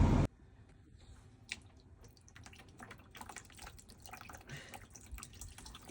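Coolant drains from the front of a BMW E46 car, heard as faint, irregular drips and small trickling splashes after a brief louder burst at the start.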